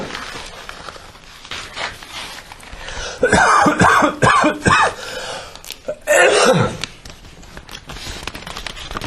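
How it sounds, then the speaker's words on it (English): A few harsh, raspy smoker's coughs burst out close by in quick succession, followed by one more rough cough after a short pause. "This is caused by smoking, this fucking cough."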